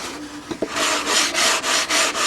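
Rhythmic back-and-forth rasping of sandpaper on a wooden model aircraft fuselage, close and steady, with a few quick strokes settling into even passes.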